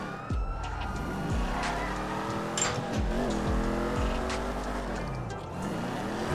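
A 2016 Dodge Charger Hellcat in GTA 5 accelerating hard in second gear, engine revving up and shifting repeatedly alongside a distant police siren and tire noise.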